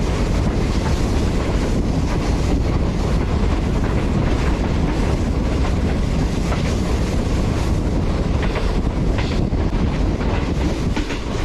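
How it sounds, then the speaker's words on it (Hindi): Green Line Express passenger train easing slowly down a horseshoe curve on a mountainside near Islamabad, a steady, dense rumble of wheels and carriage noise mixed with wind buffeting, continuous and loud throughout. "ये सामने वाले पहाड़ के ऊपर से ट्रेन आहिस्ता आहिस्ता नीचे उतरी है अभी"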